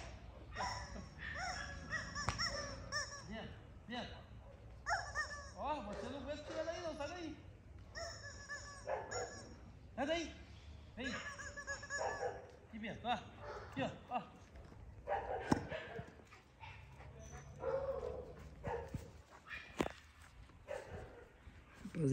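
Large Monstiff dogs barking and yipping in intermittent bursts at moderate distance, mixed with whimpers and footsteps, while people talk throughout.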